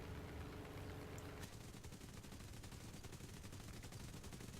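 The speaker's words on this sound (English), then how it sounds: "Let's find something open topped and put some 50 cals through it." Rapid .50 cal machine gun fire in War Thunder, a dense continuous hammering burst over a constant noisy background of engine and battle din, faint and steady throughout.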